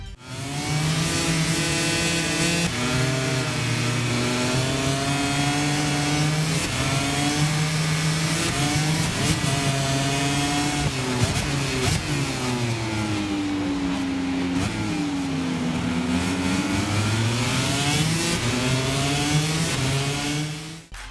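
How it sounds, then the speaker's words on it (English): Motorcycle engines in the racing game MotoGP 25 rev loud and steady, their pitch rising and falling as they race through gear shifts and corners, with no talking over them. "The motorcycles themselves sound absolutely fantastic, arguably as close to their real-life counterparts as you can get in a game"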